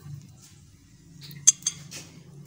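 A spoon stirs semolina in warm ghee in a pan, giving a low steady sizzle with a few sharp metallic scrapes and clinks of the spoon against the pan.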